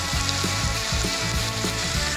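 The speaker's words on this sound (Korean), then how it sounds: "올리브유를 부어주시고 양파를 넣어주세요" Onion frying in olive oil with a pinch of salt, a loud steady close sizzle with rhythmic stirring scrapes underneath and no voices.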